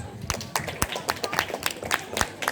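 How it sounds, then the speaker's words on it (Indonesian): Sparse applause for class 11 IPS at a school culture parade, scattered individual claps rising out of a busy outdoor crowd murmur, fairly distant and uneven. "Boleh tepuk tangannya buat 11 IPS"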